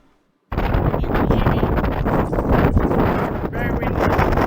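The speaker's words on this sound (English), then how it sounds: "Very windy." Strong wind buffets the microphone outdoors, a loud, rough, continuous roar that starts abruptly after a moment of silence and keeps gusting unevenly to the end.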